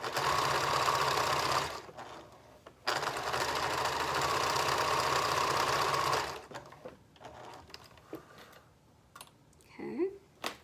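A sewing machine stitches the seam of a fabric bin while the circular top piece is stretched to fit. It runs loud and close in two long bursts with a brief pause between them, then stops, leaving soft handling noises and faint movement.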